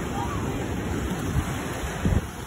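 Ocean surf breaks beside a beachfront saltwater pool at Austinmer, Wollongong, Australia, a steady wash of waves under gusty wind noise on the microphone, with a couple of louder surges near the end.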